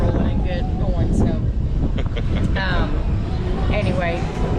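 Gusty wind buffets the microphone with a steady roar while people talk over it, on the deck of the Carnival Vista cruise ship.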